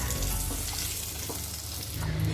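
Oil sizzling in a pan after potatoes have been fried, a close, continuous crackling hiss with a few clinks of cookware, no voices.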